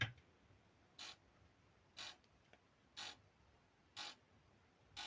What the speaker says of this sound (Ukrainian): Як чуєте, класає те саме.